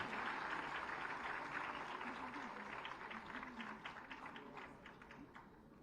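Audience clapping at an awards ceremony honouring women achievers in Uttar Pradesh, a faint, distant patter of hands that thins out toward the end while a voice speaks over it.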